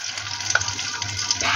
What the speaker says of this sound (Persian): یه دونه اینقدی مواد کوکو رو برمیداریم میندازیم توی ماهیتابه